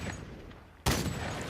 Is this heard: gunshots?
yes